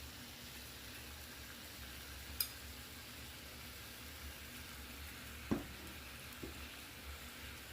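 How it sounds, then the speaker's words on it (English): Boneless chicken thighs browning in a pan give off a quiet, steady sizzle, with a few sharp clicks of utensils against the pan standing out. "Just going to brown it on both sides."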